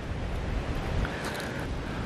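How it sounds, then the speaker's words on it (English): Wind buffets a Canon M50 camera microphone fitted with Rycote Micro Windjammers outdoors, a steady low rumbling roar with gusty swells and no speech. "Ooh, wind. Wind is coming."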